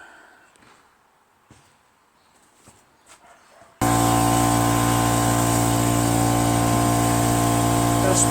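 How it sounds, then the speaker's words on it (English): Air compressor starting abruptly after a quiet stretch of faint handling noises, then running loud and steady with a constant motor drone and pump hum, close by. "So I'm going to get my air compressor started up."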